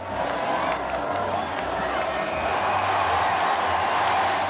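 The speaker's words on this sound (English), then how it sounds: "which receives a roar of approval from the crowd" A large crowd of spectators lining the streets near St. Paul's Cathedral roars steadily at a royal wedding kiss, a dense, continuous wash of cheering and shouting with no letup.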